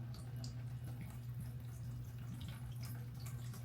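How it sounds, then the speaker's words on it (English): Water draining through a well-draining potting mix while a houseplant is repotted: a soft, continuous trickle and drip over a steady low hum, with no voices. "You see how the water, this is well draining."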